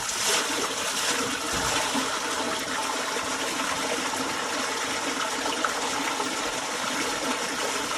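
Water gushes steadily from a village spring, a loud, continuous splashing flow with no break.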